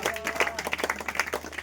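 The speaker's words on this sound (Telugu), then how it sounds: "చప్పట్లు కొట్టండి గట్టిగా" Congregation at an outdoor gospel healing meeting in a village clapping in quick, rhythmic bursts, a brisk dense patter of many hands heard close, with a faint voice mixed in.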